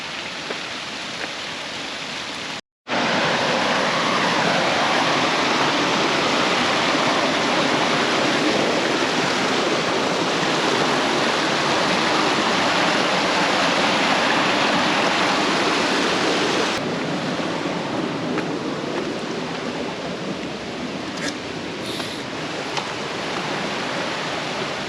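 A river rushes loudly and steadily over rocks near Balea waterfall on the Transfagarasan in Romania, a dense continuous roar close by that cuts out for a moment early on and then continues without any voices.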